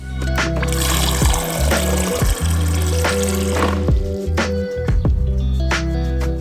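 Tap water pours into a large glass at close range, a continuous splashing run with a few clinks and bumps, loud and without voices.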